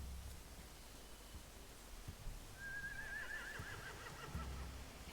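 A horse whinnies in The Walking Dead game, a single rising, wavering neigh of medium loudness heard over a steady hiss of background noise, with faint thumps around it.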